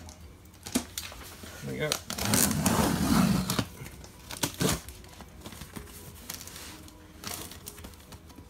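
Cardboard rustles and scrapes as a box is cut open with scissors, with a longer crinkly slicing stretch in the middle and a brief voice at the end.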